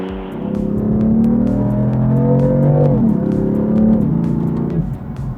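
A BMW M4 F82 coupe's inline-six engine pulls hard under acceleration, its loud, steady tone rising in pitch, dipping briefly at about three and four seconds as the gears change, then climbing again.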